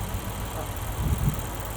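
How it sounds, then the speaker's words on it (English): A 2023 Lexus IS 500 F Sport engine idles quietly, a soft, steady low hum with a slight bump near the end and no one talking. "One of the quietest engines."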